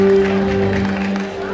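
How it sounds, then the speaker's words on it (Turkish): An audience applauds for an electric drum player at a 20th-anniversary celebration in Linz, a steady mass of clapping that slowly fades, with a sustained electronic tone humming underneath. "Elektro davulda Erdem kardeşime güzel bir alkış rica ediyorum"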